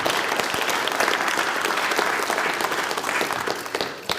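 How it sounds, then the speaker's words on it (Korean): Lawmakers at a Korean political gathering burst into sustained, loud group applause, a dense continuous wash of many hands clapping together with faint crowd noise. "우리 모두 그런 의지의 박수를 다시 한번 크게 쳤으면 좋겠습니다"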